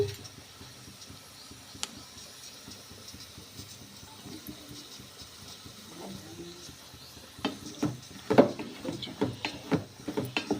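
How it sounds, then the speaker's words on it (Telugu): Ridge gourd pieces frying in a pan with low, steady sizzling, joined later by louder scraping and stirring clatter near the end. "కాస్త తిప్పిన తర్వాత బీరకాయ ముక్కలు వేస్తున్నాను"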